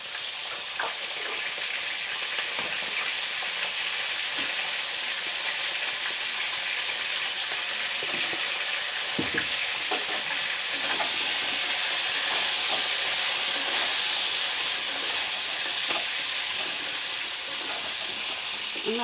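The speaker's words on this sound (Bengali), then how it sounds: "নুন হলুদ দিয়ে আমি আলুটা ভেজে নেব।" Potatoes fry in oil with salt and turmeric, giving a steady, close sizzle that runs the whole time, broken by occasional soft clicks and scrapes of stirring. No voices.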